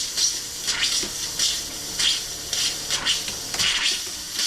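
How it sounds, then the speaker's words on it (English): Water spurts in rhythmic pulses from a camper's small water pump, hissing and splashing close by in repeated surges. "You hear the water coming out of the water pump?"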